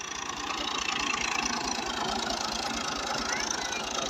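A Fiat tractor engine runs at a steady idle close by, its low, even chugging rhythm continuing throughout, with faint voices in the background.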